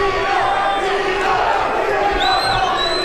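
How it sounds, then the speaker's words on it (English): A boxing arena crowd at a Golden Boy fight night between Tito Sanchez and Walter Santibañes roars steadily and loudly, a dense wash of cheering and shouting that swells throughout without letting up. "And the Tito crowd gets louder."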